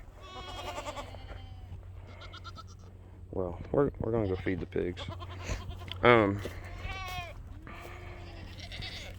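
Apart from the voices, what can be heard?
goat bleating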